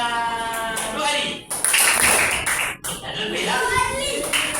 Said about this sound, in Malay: Tepuk tangan 2 kali.